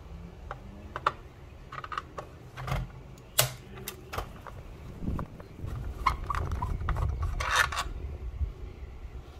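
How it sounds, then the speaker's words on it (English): A screw being removed from the top of a Hayward pool sweeper, close irregular clicks, taps and scraping of a screwdriver and plastic parts, fairly quiet with no talking. "now we have one more screw right here for the top. Let's go ahead and get that off."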